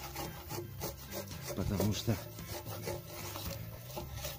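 Knife scraping bark off an oak post meant to be set straight into the ground, giving a repeated rasping, rubbing rasp at close range under a man's brief speech.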